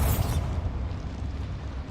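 A Bombarda blasting spell from Hogwarts Legacy goes off inside a small mine, a deep booming explosion that hits hard at the start and then fades into a rumbling, debris-filled tail.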